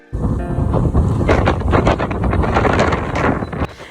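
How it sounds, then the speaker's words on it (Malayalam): Strong wind roars and buffets the microphone at a misty hill viewpoint, loud and steady from start to finish. "ഈ സൗണ്ട് കേൾക്കുമ്പോൾ തന്നെ എനിക്ക് മനസ്സിലായി കാണും എത്രത്തോളം കാറ്റ് അവിടെ ഉണ്ടായിരുന്നെന്ന്"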